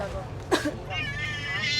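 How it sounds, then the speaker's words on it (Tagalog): A cat that has just been pinched gives a short yelp and then a longer, wavering meow, close by over a low indoor background. "Naipit yung pusa."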